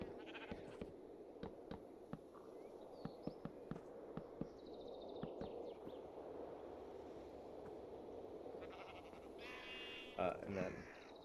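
Sheep bleating in the Minecraft video game, short game-sound calls scattered through the clip alongside clicks and a voice talking over continuous background noise.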